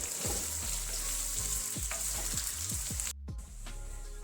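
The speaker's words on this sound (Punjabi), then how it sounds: "ਪੰਜ ਮਿੰਟ ਵਾਸਤੇ ਆਪਾਂ ਸਬਜ਼ੀਆਂ ਨੂੰ ਪਕਾ ਲਵਾਂਗੇ" Vegetables for a mixed pickle fry in a pan, a loud constant sizzle with rhythmic spatula scrapes every half second or so, close up and without speech.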